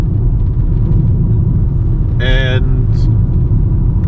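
A VW Golf 5 engine labouring uphill, a loud low steady rumble running throughout with a brief spoken word over it near the end.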